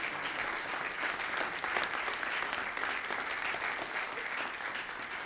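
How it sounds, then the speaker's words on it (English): Audience applause at a performing arts competition, sustained even clapping from a large crowd that holds steady and sounds slightly distant. "give yourselves a round of applause"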